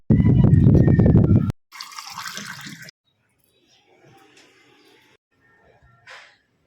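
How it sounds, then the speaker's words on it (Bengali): Water poured onto a potted plant on a cold, sunny day: a loud, full gush for about a second and a half, then a softer splash that fades into faint trickles and a brief final drip. "আজকে আমি গাছটা পানি দিই"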